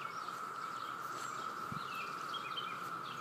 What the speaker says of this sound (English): It's freaking cicadas.